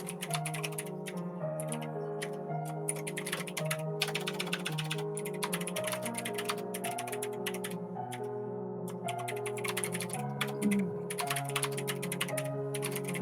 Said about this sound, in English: I'll just type this.